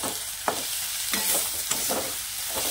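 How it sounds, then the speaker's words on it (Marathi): Leafy greens sautéing and being stirred in oil in a pan, with a steady close sizzle broken by several sharp scraping stirs at a fairly regular pace, no voices. "आपल्याला आहे ना ह्या पालेभाज्या घालून घ्यायच्या पहिल्यांदा आणि ह्या ना तेलावर चांगल्या अशा परतून घ्यायच्या"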